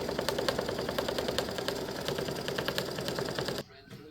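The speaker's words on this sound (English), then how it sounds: "it's finished stitching the felt and attaching it to the back" An embroidery machine stitches felt onto the back of a piece, hammering out a rapid, even needle rhythm close up that runs steadily for several seconds before stopping abruptly.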